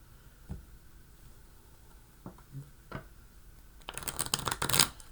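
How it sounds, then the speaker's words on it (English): A few soft taps and knocks, then a quick burst of cards being riffled and shuffled near the microphone. "And I'm going to shuffle them in 2 real quick."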